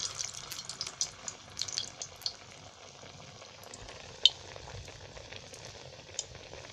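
Dahi vada batter sizzling and bubbling steadily in hot oil after being dropped in, a continuous frying crackle with small pops and no talk.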